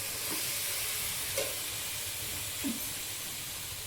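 Spices sautéing in a pan give a steady, close hiss of sizzling that runs the whole time, with a few faint clinks of stirring.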